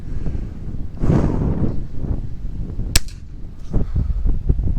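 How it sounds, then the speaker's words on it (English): A single sharp crack from a Little Badger rifle fired at a rabbit outdoors, sudden and close, standing out against steady wind noise on the microphone and rustling. "Now this is typical of the distance I'd shoot a bunny at."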